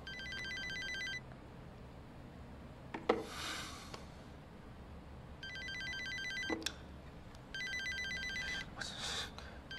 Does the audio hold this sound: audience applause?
no